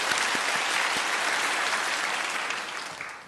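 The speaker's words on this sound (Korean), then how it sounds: "우리 박수로 한번 격려해 주시면 감사하겠습니다" A church congregation applauds warmly, a full and steady wash of many hands that fades slightly at the close.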